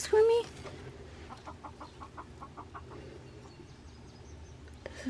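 A broody hen sitting on eggs gives a run of soft, evenly spaced low clucks, close and fairly quiet, after a brief louder squawk at the start.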